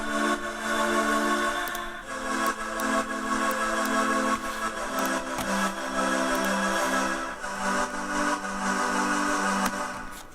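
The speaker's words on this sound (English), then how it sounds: "So the chorus was largely made from pebbles." Synth pad built from recorded pebbles: a sustained, layered tonal drone with pulsing lower notes that shift in steps, plus soft clicky textures scattered across it, steady in level for about ten seconds.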